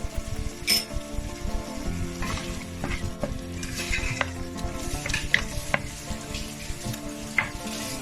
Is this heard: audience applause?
no